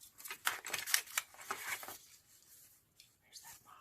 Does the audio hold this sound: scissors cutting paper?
yes